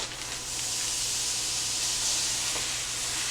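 Ground beef, one and a half pounds, hitting a large skillet heated to medium-high, giving a steady, loud, broadband sizzle and hiss that holds evenly throughout with no talking.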